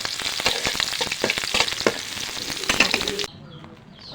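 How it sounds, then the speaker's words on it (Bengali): Green chillies and onions fry in a pan over a village wood-fired clay stove, a dense, close, steady sizzle with stirring scrapes that cuts off abruptly near the end. "কাঁচামরিচ পেঁয়াজ এটা দিয়ে একটু ভাজা ভাজা করে"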